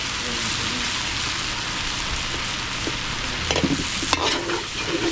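Kaldereta that has been boiled until tender fries in a pan at a catering job in Mabalacat, Pampanga, with a steady, rain-like sizzle and a brief burst of utensil clatter and spatter near the end.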